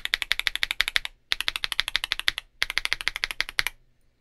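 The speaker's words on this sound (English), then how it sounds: "And this is what the Outemu Cream Green sounds like." Outemu Cream Green linear switches on a mechanical keyboard, typed in three fast bursts of crisp, close keystrokes separated by brief gaps, slightly deeper in tone.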